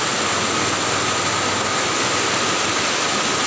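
Floodwater rushes steadily in a continuous loud roaring wash with no breaks. The steady hiss suggests a strong current running close by.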